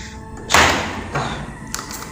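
Three knocks, like on a door: a solid thud, a softer one, then a light tap, spaced about half a second apart.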